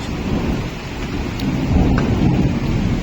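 Loud, dense downpour of heavy rain in a Kalbaisakhi storm in Bhubaneswar, with a deep rumbling thunder swelling underneath, continuous and close throughout.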